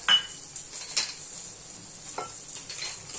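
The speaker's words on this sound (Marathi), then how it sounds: "आता हे छान आपल्याला परतून घ्यायचं आहे." Coriander seeds, fenugreek, cumin, onion, garlic and peppercorns roast together in a pan for an Udupi-style sambar masala. Intermittent spoon scrapes and light metallic clinks sound over a faint sizzle, with no speech.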